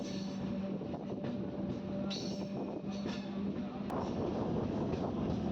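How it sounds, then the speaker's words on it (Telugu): A MEMU passenger train pulling out of Sangam Jagarlamudi station makes a low, steady rumble with a faint hum and occasional rattles, heard from on board at moderate distance with no talking. "సంగం జాగలముడి స్టేషన్ నుంచి మన ట్రైన్ బయలుదేరిపోయింది"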